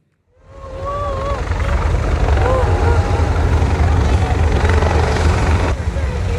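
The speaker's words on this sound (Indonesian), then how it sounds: "Helikopter yang ditumpangi Presiden Prabowo mendarat di Stadion Merdeka, Kota Jombang" A landing helicopter at Merdeka Stadium, Jombang, gives a loud, steady rotor roar with low thudding, close by and continuous, with faint voices and whistle-like tones briefly above it.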